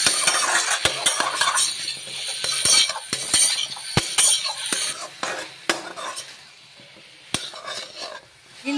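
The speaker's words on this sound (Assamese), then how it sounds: "দি পেলাই ভালদৰে আৰু লৰাই দিম।" Vegetables and turmeric being stirred in a pan, a utensil scraping and clinking sharply against the metal in irregular strokes over an ongoing sizzle, close and loud, easing toward the end, no talking.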